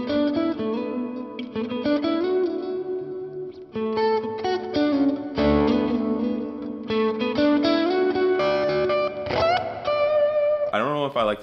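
An electric guitar, a Silver Sky, plays melodic riffs and bends with a lush amp reverb tone, loud and up close, ending on a wobbling vibrato.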